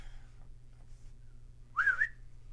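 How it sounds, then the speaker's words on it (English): A single short, loud two-tone whistle from a person calling a server, standing alone against a quiet background hum. "And whistle to the lady server who is serving water."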